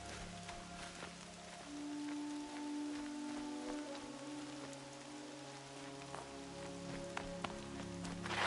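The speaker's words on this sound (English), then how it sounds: "More rain. My boots will get damp." Rain falls steadily in Horizon Zero Dawn, a soft, even hiss of drops filling the whole stretch beneath low sustained game music.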